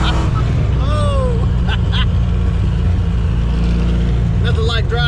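A car fitted with a Trick Flow top end kit, running on dry-rotted tires over cold pavement, drones steadily at close range with a low engine rumble, while people talk and exclaim over it.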